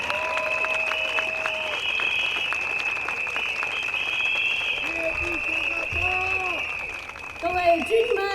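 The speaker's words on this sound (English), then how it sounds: "Round of applause." A large outdoor crowd at a political party rally in a stadium applauds an MP, broad steady clapping mixed with a high sustained tone and scattered voices and cheers, swelling slightly toward the end.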